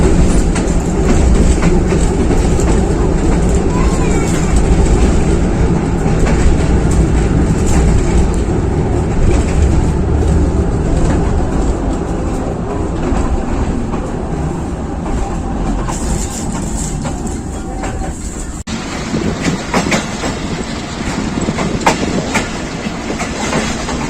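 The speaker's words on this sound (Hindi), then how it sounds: "46 डाउन पाकिस्तान एक्सप्रेस 2 मिनट की ताख़ीर से लाला मूसा जंक्शन पर पहुंच रही है" The Pakistan Express rolls into Lalamusa Junction, a loud, sustained rumble of wheels and clattering cars passing close, with a brief screech of brakes near the end.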